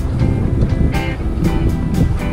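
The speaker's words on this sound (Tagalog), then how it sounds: "dito naman yung dagat" Sea waves wash and churn close by with a constant rumbling surge, mixed with gusty wind buffeting the microphone, on a coastal ride in Zuoying District, Kaohsiung.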